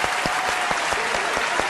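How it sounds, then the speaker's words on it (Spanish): Audience applause at a live Argentine television show, a steady dense clapping from a crowd close by, with no voices over it. "Vamos a aplaudir."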